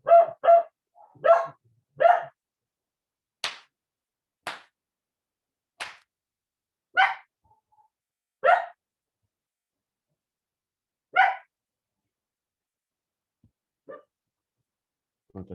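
A single dog barks in loud, sharp, spaced bursts, sometimes in quick doubles, separated by silent gaps, fading to fainter yaps near the end.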